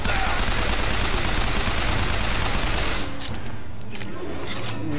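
Rapid machine gun fire from the upgraded MG in the first-person shooter BioShock Infinite, a loud dense stream of shots that stops abruptly around three seconds in, leaving sparse faint game sounds.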